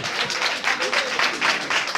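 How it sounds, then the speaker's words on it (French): A crowd at a political campaign launch in Côte d'Ivoire applauds a comrade present in the hall, a dense, continuous wash of clapping heard throughout with faint voices beneath. "applaudissez pour Koulibaly. Il faut applaudir."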